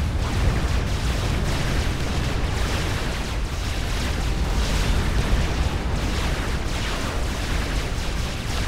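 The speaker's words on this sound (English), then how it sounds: "I already know that's artillery." Artillery fire in the strategy game Supreme Commander, heard as a loud, continuous barrage of booming explosions blending into a dense roar with steady intensity throughout.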